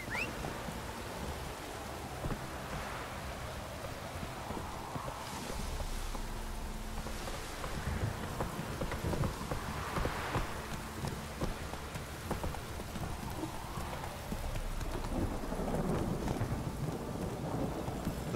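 Steady rain patters on surfaces while thunder rolls and rumbles several times in a stormy scene from The Witcher 3, rising and fading in long waves. The whole wash stays fairly soft and even, with no voices.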